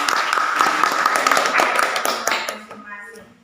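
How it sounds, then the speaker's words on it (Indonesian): A classroom of students claps together, a brisk patter of many hands that carries on for a few seconds, then thins and fades out, with a voice briefly heard as it ends. "Kita kasih tepuk tangan dulu."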